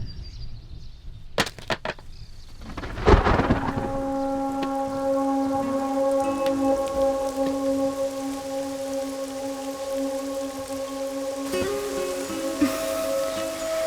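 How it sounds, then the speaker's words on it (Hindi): Rain falls steadily in a film scene, with a sharp thunder-like crack near the start followed by continuous broadband rain noise under sustained tonal music. "मुझे बरसात बहुत पसंद है"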